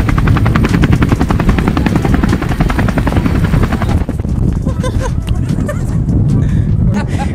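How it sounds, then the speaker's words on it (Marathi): Trousers flap hard in a strong wind at the Mangi Tungi hill site in Nashik, Maharashtra, making a loud, close, rapid helicopter-like fluttering beat that gives way to rougher gusting wind partway through. "हेलिकॉप्टर सारखाच आवाज येतो आहे माझ्या पॅन्टमधून"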